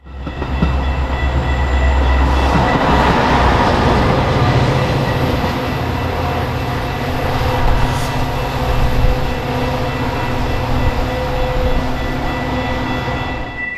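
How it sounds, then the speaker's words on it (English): Metra commuter train pushed by a blue F40PH locomotive in downtown Chicago, a loud, steady rumble and roar of passing rail cars with faint clickety-clack, no talk. "the blue-painted F40PH shoving on this outbound somewhat made up for it"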